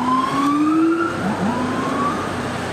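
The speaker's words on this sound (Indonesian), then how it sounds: "Bus polisi Brimob." A siren on a Brimob police bus, a Mercedes-Benz 1626 E, rises and wails in steady sweeping tones, moderately loud over road and traffic noise, with no voices.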